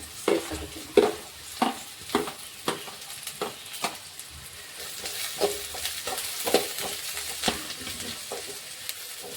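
Onions fry in a pan for a vegetable palya while a spoon stirs them, producing rhythmic scraping strokes about every half second over a soft, close sizzle.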